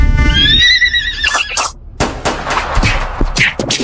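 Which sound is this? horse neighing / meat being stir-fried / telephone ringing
horse neighing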